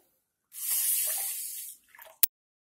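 Rice and toor dal being rinsed with water in a pressure-cooker container: a single steady hissing rush of water lasting just over a second, followed by a soft slosh and one sharp metallic tap, close up.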